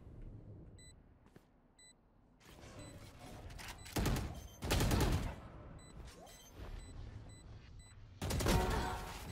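Gunshots in the tactical shooter Valorant come in several sharp, loud bursts of rapid fire, separated by quieter stretches with small electronic beeps, and brief speech is heard between the volleys.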